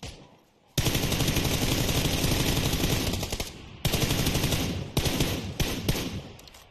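Video game gunfire in a shooter, loud sustained automatic bursts starting abruptly after a short pause and rattling on with brief breaks, dense and close.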